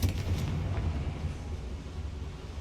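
A Confringo spell blast in Hogwarts Legacy, a dense booming burst that starts loud and rumbles on with a crackling low roar for a couple of seconds.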